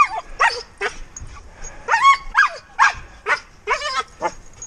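A Malinois German Shepherd cross dog gives a series of sharp, close barks and yips in quick irregular bursts, loud and excited, with no talk over them.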